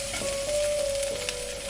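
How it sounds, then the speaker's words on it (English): Onions and coriander stalks frying in oil in a pan, a steady bright sizzle with a faint hum running through it. "So I stir a bit to mix in the oil and let it fry."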